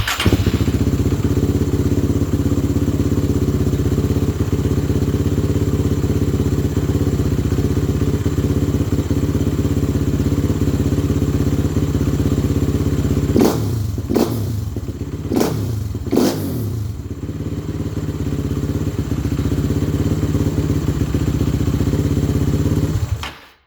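A 2006–2009 Suzuki LTR 450 ATV engine idles steadily after a DFI upgraded fuel tank install, a close, loud, even rumble broken by a few sharp throttle blips and clatter late on, with no talk.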